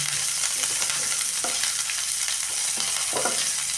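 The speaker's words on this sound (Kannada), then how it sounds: "ಒಂದು ಈರುಳ್ಳಿ ಸ್ವಲ್ಪ ಕರಿಬೇವು ಹಾಕ್ಬಿಟ್ಟು ಹಿಂಗೆ ನಾನು ಸ್ವಲ್ಪ ಫ್ರೈ ಮಾಡಿ" Onion and curry leaves fry in hot oil in a pan, giving a loud, dense, continuous sizzle close by, with occasional stirring scrapes and no talking.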